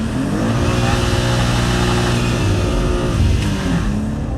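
A 2023 BMW M2's engine revs hard and steadily during a burnout, a loud, dense mechanical roar that holds its pitch with slight swells and stays close and continuous throughout, with no talking over it.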